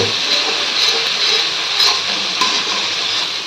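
Spices sauté in a hot cooking pan with a continuous, close hiss and sizzle, punctuated by faint scraping stirs, with no voices over it.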